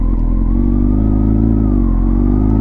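A Honda CBR929RR motorcycle engine idles close and loud, its steady low rumble holding evenly throughout with a slight rise and fall in pitch and no talking over it.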